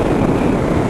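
Strong wind roaring steadily across a microphone near the coast at Marang, a dense broadband rush lasting under a second with no speech.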